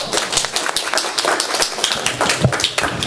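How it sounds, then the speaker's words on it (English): Audience applause at an education conference session, dense continuous clapping from a crowd, fairly loud and even throughout with no talk. "So the appropriate response is applause."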